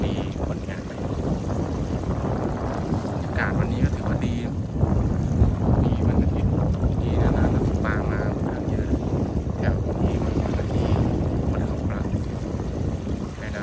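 Strong wind blows across the Pa Sak Jolasid Dam reservoir during a fishing trip, a constant loud roar buffeting the microphone throughout, with muffled voices faintly under it.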